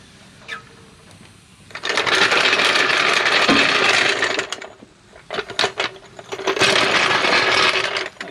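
A DeWalt 20V 1/2-inch drive cordless impact wrench rattles loudly in two long bursts with short stuttering hits between, working on a car's front wheel lowered on a jack.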